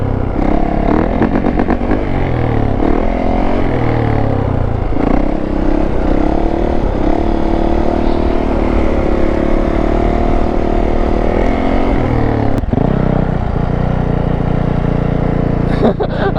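A Yamaha YZ450 dirt bike engine runs loud and close throughout, its pitch rising and falling as the rider shifts and revs, with some rattling clatter.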